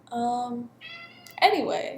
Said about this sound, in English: that's my cat. She wants to go outside,